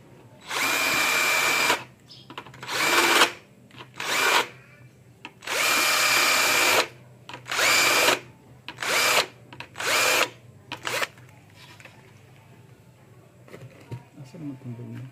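A power drill fitted with a 3/8 bit countersinks a hole while a flush bolt is installed on a door. The drill runs up close in several sharp bursts of a second or two, each separated by short pauses.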